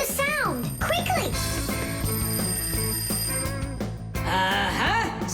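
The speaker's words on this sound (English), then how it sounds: "Simka, I think I can hear my alarm ringing." Cartoon alarm ringing as a bright repeating bell-like electronic tone over a busy musical score, with swooping cartoon sound effects and children's voices chattering throughout.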